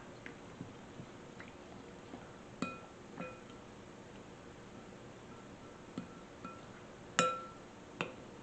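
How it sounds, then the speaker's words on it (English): A spoon stirs green coconut curry ingredients in a glass bowl, giving sparse soft clinks and a few sharper taps against the glass amid quiet wet mixing, close and faint, no talk. "So we're just gonna have to use this spoon for now. Mix this all up."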